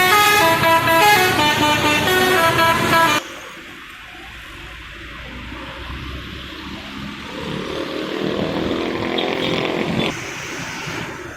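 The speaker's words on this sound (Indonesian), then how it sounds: "Bus jemputan." A large shuttle bus plays a loud, sustained musical horn for about three seconds, then drives past on a busy road with rising traffic and engine noise.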